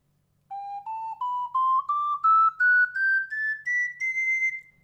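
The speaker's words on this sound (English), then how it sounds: "Let's compare that to an ocarina in G." An ocarina in G plays a slow rising sequence of about a dozen separate pure, whistle-like notes, each held briefly, stepping upward one after another alone in a quiet room.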